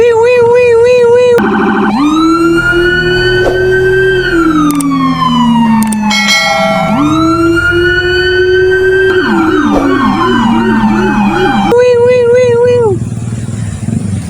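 A loud toy police siren wails continuously, cycling through rising and falling tones and rapid yelps, close by and nearly uninterrupted.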